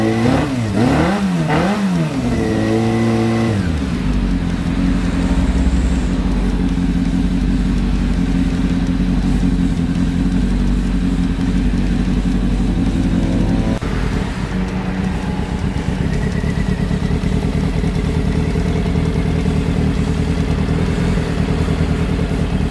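A Honda CB400 motorcycle engine runs steadily and loudly during carburetor tuning, with a few quick revs at the start before settling into a continuous close idle, no talk over it.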